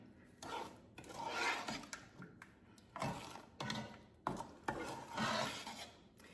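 Canning ingredients being stirred together in a pot, a series of rough scraping, rubbing strokes in irregular bursts, close and fairly quiet with short pauses between sweeps.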